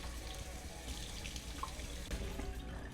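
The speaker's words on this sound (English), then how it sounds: "I'm gonna rinse all this debris off." Tap water runs steadily into a sink while debris is rinsed off a coconut, a soft, even splashing that stays close and fairly quiet, with no voices.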